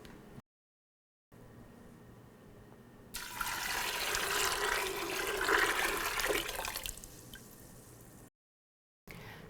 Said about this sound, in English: Now I'm adding 8 cups of water and we'll bring this to a boil.